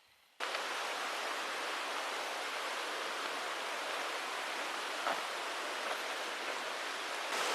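A mountain waterfall on the trail to Upper Holland Lake in the Bob Marshall Wilderness pours as a steady, broad rush of water. The sound is loud, constant and unbroken, with no voices over it.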